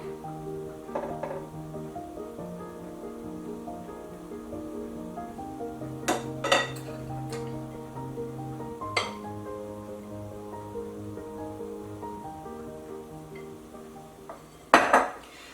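Pie crust dough being mixed in a bowl for an eggnog pie, with clinks and scrapes of a utensil against the bowl scattered through the stretch and a louder clatter near the end, no talking.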